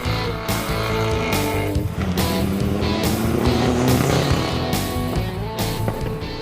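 A Mitsubishi Evo 6 all-wheel-drive race car runs an autocross course, engine roaring loud and close through repeated rising revs and sharp gear changes, with pops between shifts.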